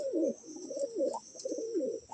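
Andhra pigeons at a loft coo in soft, repeated throaty phrases, close by, with a steady high hiss in the background.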